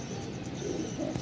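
A pigeon coos softly in a close, low, throaty burst, a short murmuring call over faint background noise.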